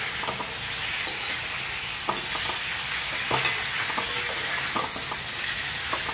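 Pork sizzles steadily in oil in a kadai, with periodic scraping and stirring knocks from a utensil at close range.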